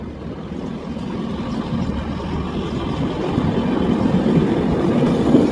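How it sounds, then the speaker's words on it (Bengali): Agartala SMVT Express train pulling out of a station, a steady low rolling rumble that gradually builds in loudness as it gets underway. "ছেড়ে দিল আগরতলা এসএমবিটি এক্সপ্রেস"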